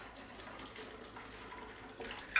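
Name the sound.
pouring whiskey sour mix into tumblers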